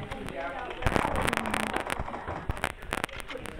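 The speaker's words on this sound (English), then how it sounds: "Somebody just shot from in front of me." Gunshots in a video game pop and crack in quick, irregular bursts. Talking runs over them at moderate loudness.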